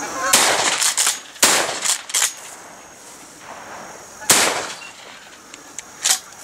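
Shotguns fire during a goose hunt at Horicon Marsh, with three sharp, loud blasts spaced over several seconds and fainter pops between them, while hunters talk.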